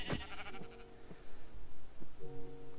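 Short Minecraft sheep bleats come through faintly against steady in-game background music, a brief call near the start and quieter ones later.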